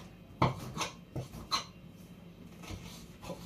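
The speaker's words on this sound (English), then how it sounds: "We'll quickly chop them." A kitchen knife chops frozen mixed vegetables on a board in a handful of sharp, uneven knocks, close and fairly quiet, with short pauses between cuts.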